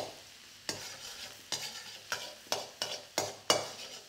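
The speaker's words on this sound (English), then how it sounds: "when the oil is hot enough, you're going to get about half your garlic into here" Garlic frying in hot oil in a wok, a soft constant sizzle broken by about seven sharp scraping stirs of a utensil against the metal at a steady pace, close and without talking.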